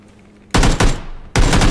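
Groza rifle gunfire in a video game, two loud close bursts of rapid automatic shots separated by a brief pause.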